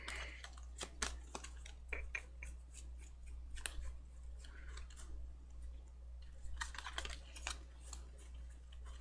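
Tarot cards are flipped and shuffled close up, giving quiet, irregular papery flicks and taps over a low steady hum.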